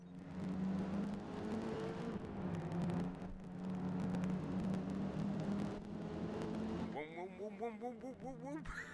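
A car engine in the racing game Forza Motorsport hums and drones steadily, then revs up and down with rising and falling pitch sweeps near the end, while someone talks over it.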